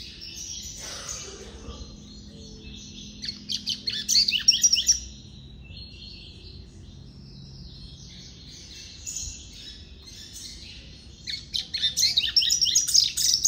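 A capuchin seedeater (papa-capim) sings its own song in short bursts of bright, high chirps and trills, clear and fairly close, separated by quiet gaps with faint background insects.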